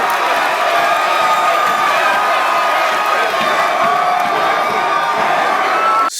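A large crowd cheers and roars continuously at a live music show, a loud dense wall of shouting and whooping that holds steady throughout.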